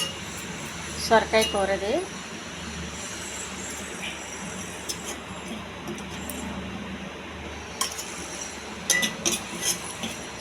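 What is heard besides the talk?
clinking of containers while packing a lunch box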